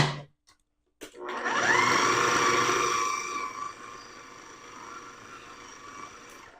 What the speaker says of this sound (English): So I like to blend it down.